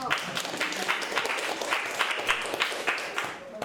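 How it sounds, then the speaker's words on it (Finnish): Applause from a church audience at a testimony gathering, a steady wash of many hands clapping with scattered louder claps, continuing throughout and easing off at the end. "Niin, aplodit."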